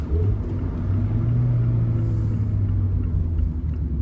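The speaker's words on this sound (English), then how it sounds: "Lamborghini Huracan coming by" A Lamborghini Huracan passes by with a deep, steady engine rumble and road noise, fairly close and constant throughout, with no talking.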